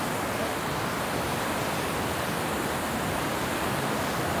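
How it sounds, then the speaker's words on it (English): A waterfall roars steadily close by, a dense, unbroken broadband rush with no pauses or other sounds. "I'm at the edge of the waterfall."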